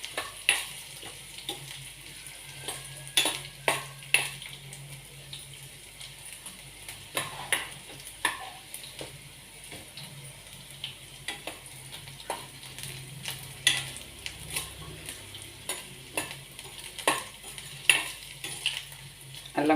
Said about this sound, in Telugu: అల్లం కొంచెం టైం పడుతుంది, కొంచెం వేగాలి.